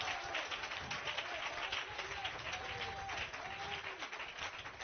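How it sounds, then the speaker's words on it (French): Congregation applause in a French-language church service, a steady burst of many hands clapping with faint voices mixed in throughout. "Donnez une main d'acclamation au Seigneur."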